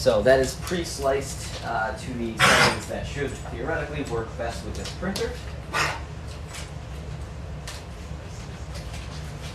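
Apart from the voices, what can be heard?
dog choking on too much water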